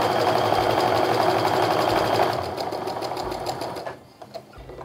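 A domestic sewing machine chain-pieces quilt fabric, giving a fast, steady close mechanical whir that slows and stops near the end.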